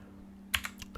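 A short burst of four crisp clicks on a computer keyboard, spaced unevenly as digits of a friend code are typed, sits close and clear above a steady low hum.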